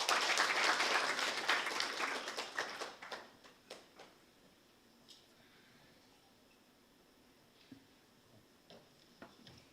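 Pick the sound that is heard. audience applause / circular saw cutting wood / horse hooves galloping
audience applause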